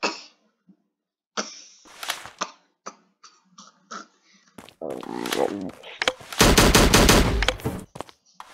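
Video game gunfire crackles in short bursts, a few isolated shots early on, then a louder sustained burst of rapid automatic fire near the end, with coughing and voice sounds between the shots.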